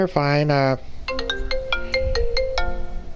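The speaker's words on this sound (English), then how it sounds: "That's my phone, Shadow." A phone ringtone plays a repeating melodic pattern of clear tones, loud and close, after a brief stretch of voice at the start during a livestream.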